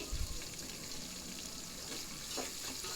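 Turmeric and ginger garlic paste fry in hot oil, a faint, continuous crackling sizzle with light stirring noises.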